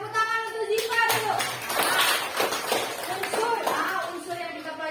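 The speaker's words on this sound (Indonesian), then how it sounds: "Tepuk tangan untuk Ziva dulu." Students in an Indonesian classroom clap for a classmate during a chemistry lesson, a short burst of scattered hand claps mixed with children's voices and background chatter.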